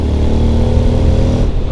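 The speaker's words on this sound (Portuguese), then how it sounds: "Tá ouvindo o ronco?" Honda X-ADV scooter engine roars steadily and loud for the whole stretch, a dense low rumble with harmonic drone, cutting off sharply near the end.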